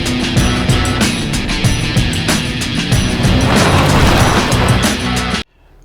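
A Mercedes G400 G-Wagon tears around an off-road rally circuit outside Cape Town. Its engine roars loud and close, thick with bumps and rattles from rough ground, then cuts off abruptly near the end.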